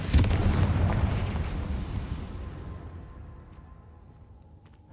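A Confringo fire spell explodes in Hogwarts Legacy: a loud, deep boom with a fiery burst that rolls out and fades over several seconds, ending with a sharp new hit.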